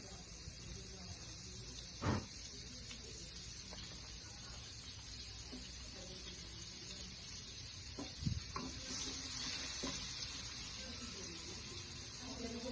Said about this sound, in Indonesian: Sekarang kita mau manasin wajan, kita kasih minyak sayur sama kurang lebih 2 sendok makan margarin ya guys.